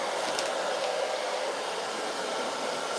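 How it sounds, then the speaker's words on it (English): A blow dryer runs continuously while drying a wig, a steady, loud, close airy roar with no breaks or talk. "I am going to be using my blow dryer here"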